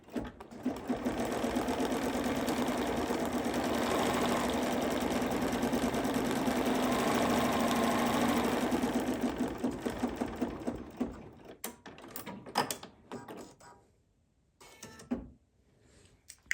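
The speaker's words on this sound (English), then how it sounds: "we're going to do a placement stitch to place that white interfaced fabric" Embroidery machine running a placement stitch with white thread on interfaced fabric for a hot pad, a steady close mechanical hum for about nine seconds, then slowing into scattered clicks and brief bursts before going quiet.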